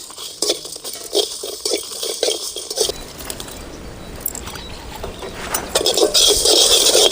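Coriander seeds dry roasting in a pan with salt and dried chillies in a village kitchen: rattling, scraping stirs and grainy patter run throughout, loudest near the end.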